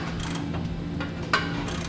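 Ratchet tightening the large top nut on a replacement Firestone Ride-Rite air spring, giving short bursts of clicking pawl strokes in a few separate runs, close and moderately loud with no talk.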